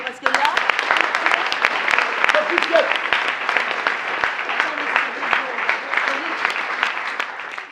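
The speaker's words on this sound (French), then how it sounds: "On peut applaudir" Applause from a theatre audience at a legislative theatre performance, dense and steady clapping that carries on evenly for several seconds without letting up.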